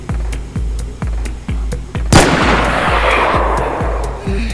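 Gunfire in DayZ with heavy booming shots at a steady, spaced rhythm over a thumping beat, followed by one sharp louder blast whose echo lingers and washes outward.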